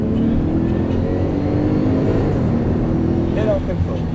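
A Porsche GT3 Turbo engine drones loud and steady from inside the car as it accelerates on a track, while a driver talks over it.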